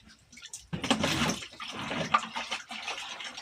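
Water gushes and gurgles through a siphon hose while prospecting for gold, a sudden burst of splashing flow followed by uneven sloshing and dribbling, close by and with no talk.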